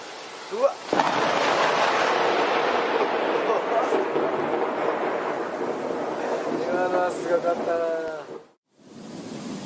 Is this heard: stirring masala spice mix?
no